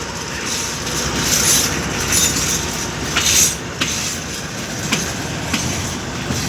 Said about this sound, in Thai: ขบวนรถสินค้าครับ ขบวนที่ 726 ก็กำลังออกจากสถานีรถไฟ ชุมทางบางซื่อแล้วนะครับ